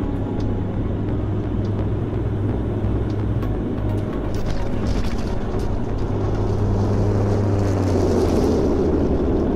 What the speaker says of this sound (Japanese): 速度を落として着陸体勢に入ります。 まもなく着陸。